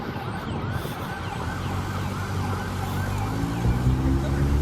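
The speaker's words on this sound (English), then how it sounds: "I do hear a lot of sirens right now." Ambulance sirens wail through Atlantic City streets, rising and falling over a steady rumble of nearby traffic.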